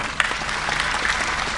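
An audience at a Gujarati folk jokes performance breaks into steady applause, a dense patter of clapping hands at moderate level with no voices over it.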